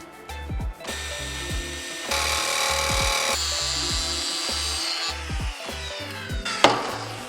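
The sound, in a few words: drilling and cutting out holes in aircraft metal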